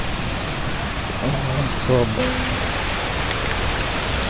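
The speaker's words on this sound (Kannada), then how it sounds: "ಏನು ಕೇಳಿಸ್ತಿದೆ ಗೊತ್ತಾ? ವಾಟರ್ ಫಾಲ್ಸ್ ಬೀಳ್ತಾ ಇರೋದು" Sirimane waterfall near Sringeri pours down in monsoon rain as a dense, steady roar of falling water close by, with a brief voice and a few faint tones rising over the constant wash.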